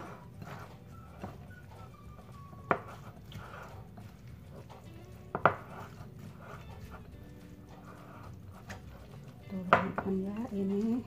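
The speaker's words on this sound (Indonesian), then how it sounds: "Terus ini diaduk sampai merata" Minced meat and tomato paste filling stirred in a pan for stuffed eggplant, giving soft scraping and occasional sharp clinks of a utensil against the pan, fairly quiet with a busier clatter near the end.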